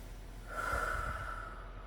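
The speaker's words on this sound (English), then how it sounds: "take a few deep breaths" One deep breath drawn in and let out slowly through the nose, close and quiet, a single soft airy swell with nothing else around it.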